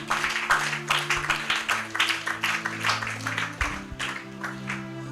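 A church congregation claps in steady rhythm to praise the Lord, the repeated hand claps sounding over sustained keyboard chords that fill the room.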